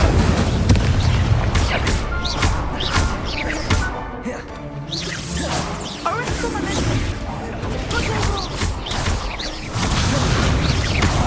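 In Hogwarts Legacy, the Incendio fire spell is cast amid a dense game soundscape of booms, crashes and bursts, loud and layered with a spoken voice and other spell effects.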